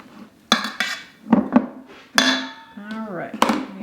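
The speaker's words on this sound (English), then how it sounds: "So you're gonna mix that together." Metal utensil strikes and scrapes against a bowl while sourdough starter ingredients are mixed, with sharp clinks at irregular intervals and ringing tones, close and clear.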